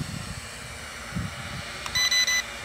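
Hilldow LH-X63 drone remote control emits three short, high electronic beeps in quick succession near the end, clear and close over a soft background hum with faint handling noises.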